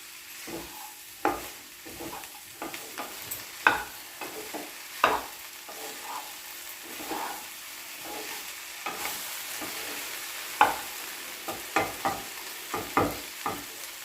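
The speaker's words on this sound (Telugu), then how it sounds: "బెండకాయ ఫ్రైకి మూత పెట్టకుండా అంతా కలుపుతూ ఉండాలి" Okra frying in an open pan while being stirred, a low sizzle beneath a string of distinct spatula scrapes and taps at an irregular pace, close and quiet, with no one speaking.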